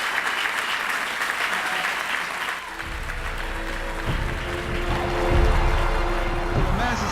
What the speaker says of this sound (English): let's give her a big applause to Vilma Martinez